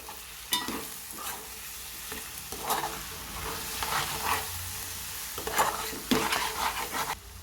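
A spoon scrapes and stirs chilli powder and salt through a sizzling pan of raw mango curry, with irregular scraping strokes over a constant frying hiss.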